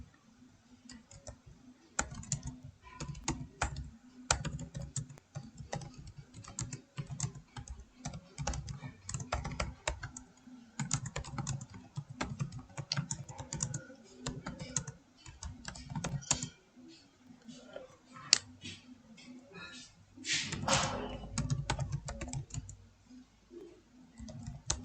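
Someone types a Python program on a computer keyboard, a quiet, close run of rapid key clicks in uneven bursts with short pauses, continuing for about twenty-five seconds with no talking.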